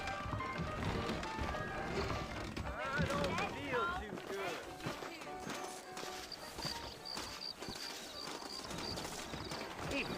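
Steady clip-clopping of horse hooves at a walking pace in the video game Red Dead Redemption, continuing under voices and background sound throughout.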